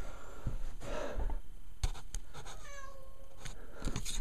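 A cat meows in protest as it is put into a carrier box for a trip to the vet, giving a few drawn-out cries mixed with scuffling and handling noises close by.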